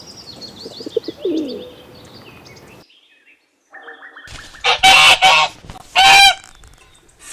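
A goose honking in loud, harsh bursts, two strong blasts close up after quieter bird sounds and a short pause.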